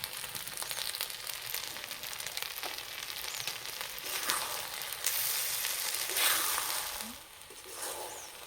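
Ghee sizzling in a pan while egg pulao cooks makes a steady frying hiss with stirring scrapes and a brief louder swell late on, no speech.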